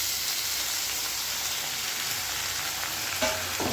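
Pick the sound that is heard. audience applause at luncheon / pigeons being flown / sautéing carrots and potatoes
sautéing carrots and potatoes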